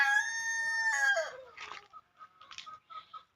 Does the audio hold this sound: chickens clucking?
yes